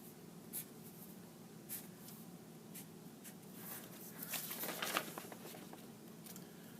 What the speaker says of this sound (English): I'm just showing you how I write.